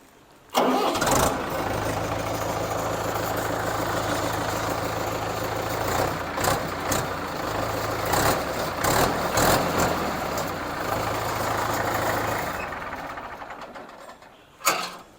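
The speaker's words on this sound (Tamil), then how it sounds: "இந்த இன்ஜினை வந்து ஸ்டார்ட் பண்ணி காமிக்கிறேன் பாருங்கள்," A Trakstar 550 tractor's diesel engine cranks and catches, then settles into a steady, loud chugging idle for several seconds before shutting off with a final knock.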